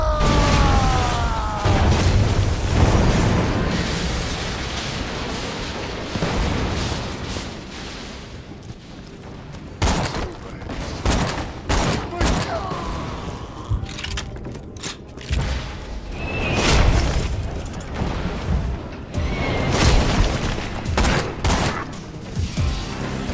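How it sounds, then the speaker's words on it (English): Lunar bombardment in Borderlands 2 sets off a dense fusillade of booming explosions and gunfire-like bursts, loud and continuous with heavy impacts throughout, with no speech. "Commencing lunar bombardment."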